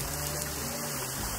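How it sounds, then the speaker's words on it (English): Rain falling in the woods near an off-grid cabin, a steady dense hiss of drops with no pauses, even and enveloping. "Still raining,"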